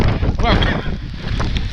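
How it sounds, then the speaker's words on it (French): Strong headwind buffeting the microphone near a lighthouse in Wellington, New Zealand, loud rumbling gusts with people talking over the roar. "Alors, le problème, c'est qu'on est à contre-vent."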